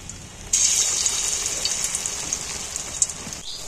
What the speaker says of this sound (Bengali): এইবার আমি একটা একটা করে এর মধ্যে গুলিয়ে তেলের মধ্যে ছেড়ে দিই।